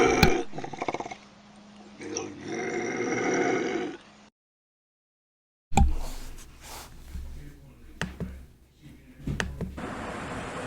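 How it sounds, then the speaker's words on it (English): A bobcat's growling, roaring calls play from a recording, loud rough bursts in two stretches split by a gap of silence, with a few sharp yowls in the second part. "this is what a bobcat sounds like"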